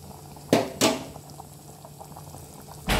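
Water at a rolling boil in a pot for mutton pulao, with a few sharp splashy bursts of rice being poured in, one loud pour near the start, another right after and a third at the end, over steady bubbling.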